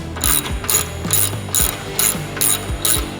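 Close, crisp ratchet clicks from snugging fender bolts on a '18-'24 Harley Fat Boy or Breakout, coming in seven short bursts at a steady pace with no talking.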